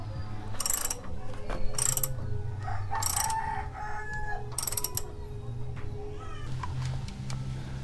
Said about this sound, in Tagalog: Higpitan nyo yung nut, axle nut,